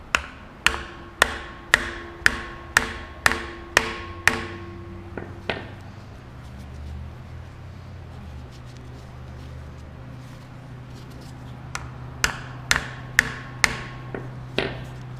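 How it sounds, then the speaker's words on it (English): A hammer strikes steel again and again to drive a clutch pilot bearing out of a crankshaft: a fast, even run of loud ringing blows, then a pause with low hum, then another quick burst of hits. "this bearing is going to start to just slowly kind of come out like this as I hammer it."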